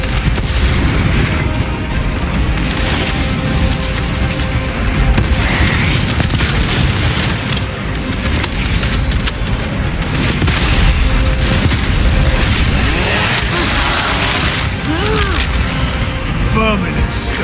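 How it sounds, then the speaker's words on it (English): Frag grenade blasts in Warhammer 40000: Space Marine 2, played on max difficulty, thumping loudly amid dense, continuous battle noise, gunfire and game voices. "Deploy frag grenade!"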